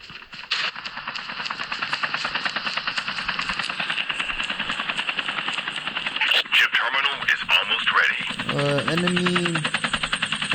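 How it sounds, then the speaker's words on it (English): An enemy helicopter closing in during a battle-royale video game, a dense rapid chopping rotor beat that stays loud and continuous, with bursts of gunfire and brief in-game radio-like tones layered on top. "Enemy helicopters coming very near"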